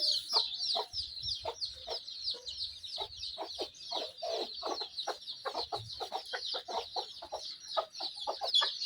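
A hen on a poultry farm clucks in quick, repeated bursts beside her single chick, with thin high peeping running steadily underneath; the calls are close and fairly loud, with no talking.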